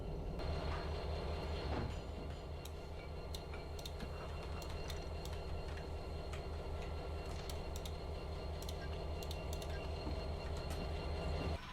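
Steady rumble of a DE6 locomotive train in the video game Derail Valley coupling cars, with rolling wheels, occasional clanks and metallic clicks throughout, continuous and fairly close, with no voices.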